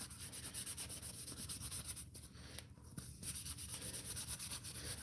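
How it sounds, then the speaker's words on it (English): Close, rhythmic rubbing of sandpaper in quick back-and-forth strokes, with a brief pause midway before the steady scratching resumes. "So an exciting video of sanding."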